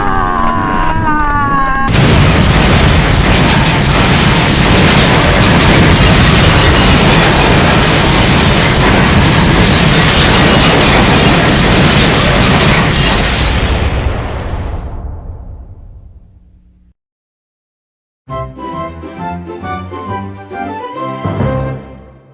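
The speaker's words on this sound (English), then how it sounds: "The shockwaves generated by the battle and subsequent explosion were equivalent to a magnitude 6 earthquake." A massive explosion sound effect follows a battle: a loud, dense roaring blast rumbles continuously for about twelve seconds, then fades into silence before other sound resumes.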